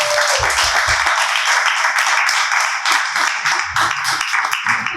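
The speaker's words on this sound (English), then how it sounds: "Clap it up for him." An audience claps at a panel discussion, a loud near burst of many hands that thins into scattered claps toward the end.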